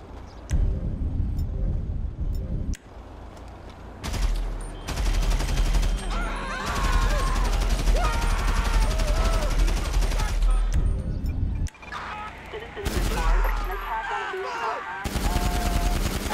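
Explosive-round gunfire from the game GTA V fills the scene: rapid bursts of shots and booming blasts in loud clusters, broken by short pauses, with game voices heard faintly underneath.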